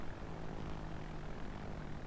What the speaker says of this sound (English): And there are planes around him.